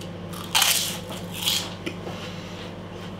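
Leftover prawn crackers from a Chinese takeaway crunched up close, two sharp bites followed by softer chewing, with no talk.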